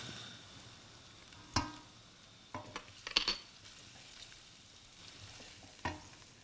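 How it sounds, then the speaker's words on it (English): Rice and garlic toast in olive oil in a pan, giving a soft low sizzle under scattered sharp scrapes and knocks of a spoon stirring against the pot, fairly quiet. "I like to toast the rice a little bit to coat it in the olive oil"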